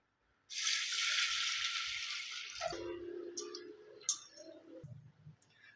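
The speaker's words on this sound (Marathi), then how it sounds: "आता ही डाळ आपण धुवून घेऊया" Water rushes steadily for a couple of seconds, then gives way to soft wet squishing and light clicks as toor dal lentils are swirled and rinsed by hand.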